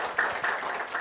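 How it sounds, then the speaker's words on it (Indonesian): Short spatter of audience clapping at a skincare product presentation, a small group applauding at moderate volume for about a second with no talking. "Boleh tepuk tangan buat asisten saya Mbak Dewi."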